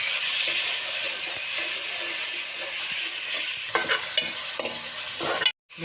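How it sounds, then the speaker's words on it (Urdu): Tomatoes and garlic fry in a pan with a constant close sizzle, broken by scraping stirs near the end before a brief cut to silence. "اب ہم اس میں ٹماٹر ایڈ کرنے لگے ہیں اور 5 منٹ تک ہم اس کو بھون لیں گے۔"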